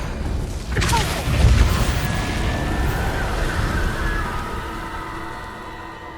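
A booming spell blast in a Hogwarts video game erupts loudly with a deep low rumble, then fades into a long whooshing, whistling tail over a steady background.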